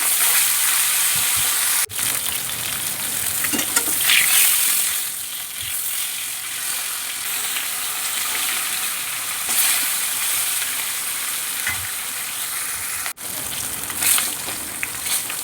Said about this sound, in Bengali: সব মাছগুলো ভেজে নেবো